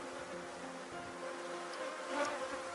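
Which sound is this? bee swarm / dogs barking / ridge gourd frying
bee swarm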